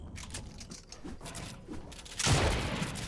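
Gunfire in the Fortnite video game, a busy crackle of shots and mechanical clatter followed by a louder burst of fire near the end, all fairly close.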